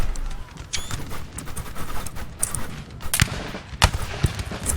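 Howitzer and musket fire in Napoleon Total War 3, scattered sharp cracks and heavier booms at irregular intervals over a dense battlefield din of troops and crackling.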